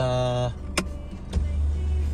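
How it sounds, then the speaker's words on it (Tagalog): A car's electric power window motor whirs steadily for about half a second, then a couple of sharp clicks follow and the low idle rumble of the running engine continues beneath. "binuksan ko ng bintana dito sa kabila"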